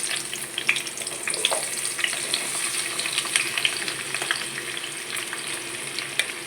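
Bottle gourd pieces frying in plenty of oil over a low flame in a pan, giving a steady, close crackling sizzle with occasional stirring scrapes and no voices.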